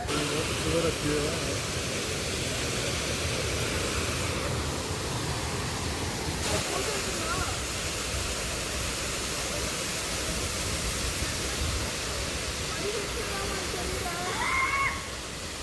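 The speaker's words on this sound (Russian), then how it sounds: "Такой величественный, да, водопад." Steady, full-band rushing of falling water, continuous and enveloping, with faint voices briefly audible in the background.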